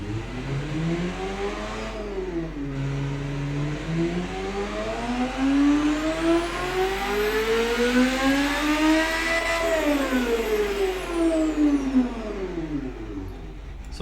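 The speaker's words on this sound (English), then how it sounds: "This is what the car sounds like with that 1200 horsepower." A 1200-horsepower car engine in the video game Automation revs continuously, its pitch sweeping up and down through several long climbs and drops. It sounds loud and close throughout, with a steady high whine riding above the engine note and no talk.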